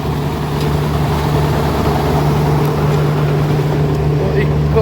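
A large electric motor running at a sugar mill, with a loud continuous low hum and steady mechanical drone close by for the whole stretch.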